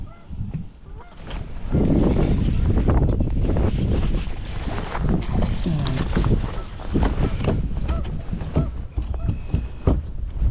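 Strong wind buffets the microphone with continuous roaring gusts, loud and rough throughout, with faint honking and water sounds mixed in.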